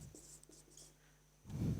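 Pen writing by hand on paper, short soft scratching strokes, quiet and close, ending in a brief louder rustle.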